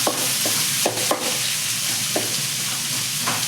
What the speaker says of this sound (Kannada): ಇವಾಗ ಸ್ವಲ್ಪ ಫ್ರೈ ಮಾಡ್ಕೋಬೇಕು.